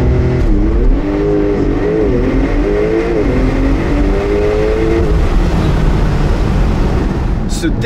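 A Porsche 992 Turbo S launching hard from standstill under launch control, its engine roaring loud and close with a rising, wavering tone through quick gear shifts, the pull steady and powerful over several seconds.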